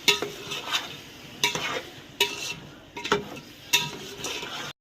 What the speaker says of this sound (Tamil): அப்படியே இஞ்சி பூண்டு பேஸ்ட் சேர்த்து வதங்கிட்டோம்னா